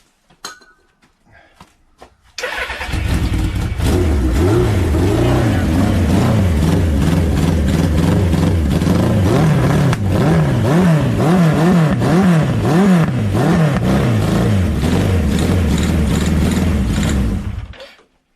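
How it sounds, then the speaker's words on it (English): A 1983 Suzuki GS1100E motorcycle engine catches and starts, then revs repeatedly in rising and falling bursts, loud and close, running steadily for about fifteen seconds before cutting off. "That's got the bike running. The exhaust sounds really good."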